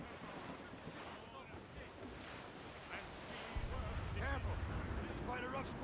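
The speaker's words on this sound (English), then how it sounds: "It's quite a rough squall" A rough squall at sea in the Assassin's Creed Rogue video game, with gusting wind and waves surging against a sailing ship. A constant roaring rush swells louder midway, and indistinct voices sit faintly beneath it.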